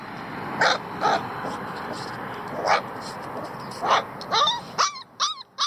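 A Kangal dog barks several times in short, sharp bursts, ending in a run of higher yips and whimpering cries, fairly close by.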